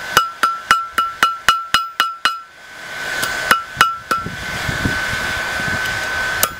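Hammer striking hot metal on the horn of an anvil while shaping a candle holder, a rapid even run of ringing metallic blows, then a few spaced strikes over a rising roar of forge blower noise.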